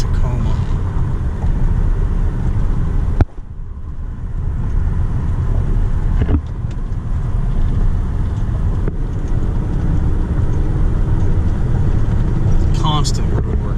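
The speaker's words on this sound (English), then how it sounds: "Constant road work, it seems like." Steady rumble of constant road work outside, with a low broadband drone, a couple of sharp thumps and faint machinery tones over roughly fourteen seconds, under occasional talk.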